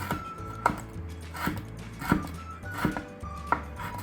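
A knife chops red chili pepper diagonally on a cutting board for a stir-fried fern dish, about six crisp, evenly spaced thuds at a steady pace, close up with no talking.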